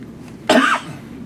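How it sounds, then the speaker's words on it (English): A single sharp cough into a microphone at a postgame college basketball press conference, close and loud, short and harsh, against quiet background. "Try not to cough into it."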